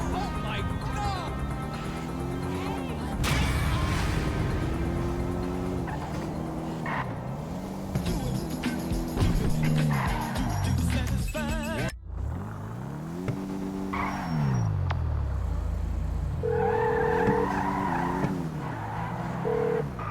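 Car engine revving and tires skidding in Grand Theft Auto V, with the engine note rising and falling through sliding turns, mixed with game music, sirens and bursts of shouting voices throughout.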